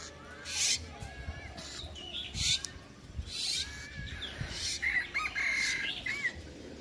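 Caged forest birds at a wild bird-keeping spot call out as people come near, a series of loud, near chirps and squawks over about seven seconds, some rising to shrill peaks, with no talk.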